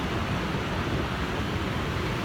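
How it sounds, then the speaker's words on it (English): Ocean waves spilling over rocks at Solana Beach, a continuous hushing wash of surf heard at moderate level with no break or voices. "just listening to the ocean fall over the rocks"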